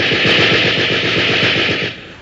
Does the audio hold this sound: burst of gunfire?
yes